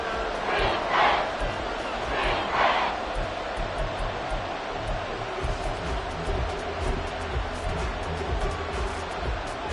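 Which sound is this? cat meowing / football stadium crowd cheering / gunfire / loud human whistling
football stadium crowd cheering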